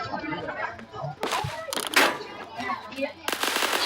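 Rapid gunfire bursts in Roblox Phantom Forces, sharp loud volleys cutting in and out over young voices chattering throughout.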